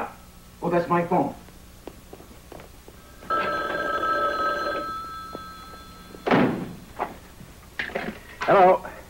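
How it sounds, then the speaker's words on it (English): An old telephone bell in a 1979 vampire film rings in one sustained burst, with voices speaking before and after it and a few dull thumps. "Oh, that's my phone."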